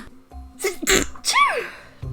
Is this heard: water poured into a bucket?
no